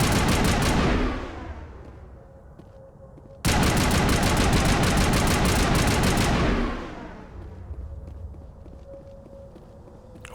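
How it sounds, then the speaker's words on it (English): A turret fires in the video game Mass Effect in two loud rapid bursts of rattling automatic fire, the first short, the second lasting about three seconds, each trailing off into a fading echo. "Oh, it's a turret."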